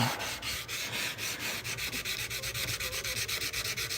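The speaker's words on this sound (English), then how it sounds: "So I don't sit here and use this sandpaper forever and ever." Wood being sanded by hand with sandpaper: steady, rhythmic back-and-forth rasping strokes, close and fairly loud, with no talking.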